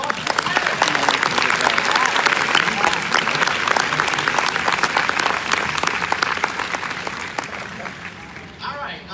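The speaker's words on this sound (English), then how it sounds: "Round of applause." Sustained audience applause at a D23 panel celebrating 50 years of the Haunted Mansion, dense clapping from a large crowd holding steady, then thinning out and fading near the end.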